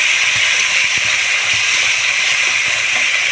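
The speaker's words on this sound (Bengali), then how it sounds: "পেঁয়াজ বাটা দু চামচের মতো করে আমি ভাজতে দেবো এখন" Onion paste frying in hot oil with a bay leaf and nigella seeds, giving a steady, loud broadband hiss and sizzle that runs unbroken throughout.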